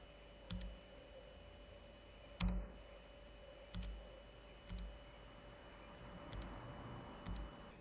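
Computer keyboard keys pressed in a terminal, a handful of sparse, separate clicks spaced about a second apart with one sharper keystroke, quiet and close with no talking.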